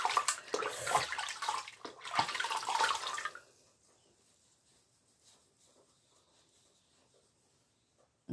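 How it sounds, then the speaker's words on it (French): Running water splashes as a face is rinsed, with a burst of hands-in-water sloshing for about three seconds, then it stops abruptly, leaving near silence with faint drips. "je vais venir rincer tout ça"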